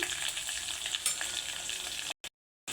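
Curry leaves and turmeric frying in hot oil for a fenugreek-leaf and raw-mango dal: a continuous close hiss of sizzling with faint crackle, steady throughout, then cutting out abruptly near the end.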